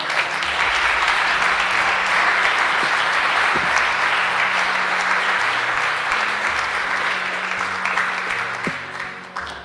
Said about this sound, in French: Est-ce qu'on peut acclamer notre Seigneur?